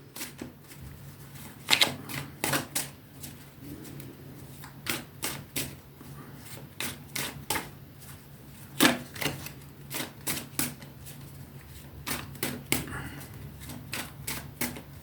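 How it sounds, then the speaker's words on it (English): A deck of tarot cards is cut and shuffled by hand, giving quick, crisp riffling snaps and flicks in irregular bursts, close and clear over a quiet room. "let's cut the cards again"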